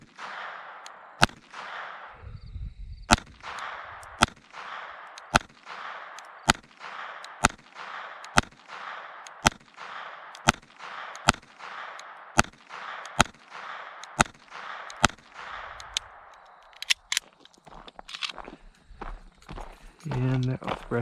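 A firearm fitted with an upgraded GSG trigger is fired through the rest of a magazine: about fifteen sharp, evenly spaced shots ring out, with some quieter shuffling and handling noises at the end.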